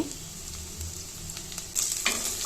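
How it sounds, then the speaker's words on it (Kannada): Garlic and ginger fry in a pan for a cauliflower masala gravy, giving a quiet, steady sizzle that swells briefly near the end, with no voices. "ಇದನ್ನು ಅಷ್ಟೇ ಫ್ರೈ ಮಾಡ್ಕೋಬೇಕು"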